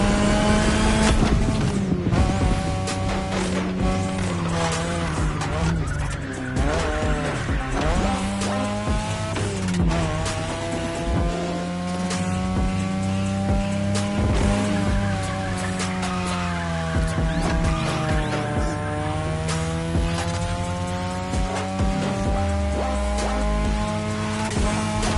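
Race car engine in The Crew Motorfest video game, revving and shifting over long stretches of tire squeal as the car drifts through corners, loud and continuous against background music.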